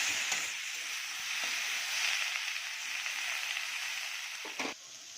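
Bitter gourd slices seasoned with salt, turmeric and chili fry in a pan, giving a steady, even sizzle close by, with a couple of brief clatters from stirring near the start and end.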